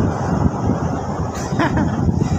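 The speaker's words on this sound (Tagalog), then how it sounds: "Sobrang hangin dito." Strong wind buffets the microphone on an open bridge-side street in Manila, producing low rumbling gusts throughout, with faint traffic underneath and brief higher bursts midway through.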